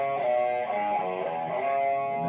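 A distorted electric guitar plays the closing riff, a sustained, heavily overdriven tone that stays loud and close throughout, with no voice over it.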